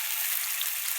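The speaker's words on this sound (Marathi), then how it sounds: "मस्त तेलात चांगलं बघू शकता. सुंदर भाजत." A potato fries in hot oil for misal, giving a steady close hiss and sizzle with no talking.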